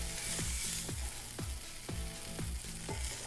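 Scallops searing in a hot pan, a loud continuous sizzle broken by a steady series of about six sharp scraping strokes, roughly every half second, with no talk.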